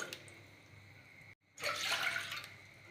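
Water poured from a bowl-sized measure into a cooking pot before flour is added for chicken or mutton vade, a steady splashing pour that swells after a brief gap and runs on without talk.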